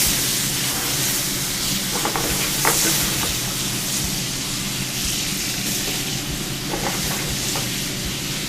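Shrimp sizzle loudly in a hot pan in a busy restaurant kitchen, a continuous close frying hiss broken by a few sharp clicks and scrapes of stirring.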